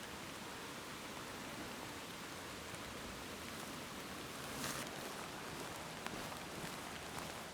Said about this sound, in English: I could sit and watch those raindrops dancing all day.